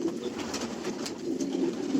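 Racing pigeons, many of them blue, coo softly and steadily in their loft, low rolling calls with faint rustling around them.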